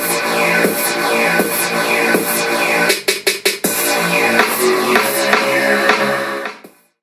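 Royalty-free music playing from a Google Home Mini smart speaker: a loud, steady instrumental track with rhythmic strummed chords and a brief choppy stutter midway, ending in a quick fade to silence.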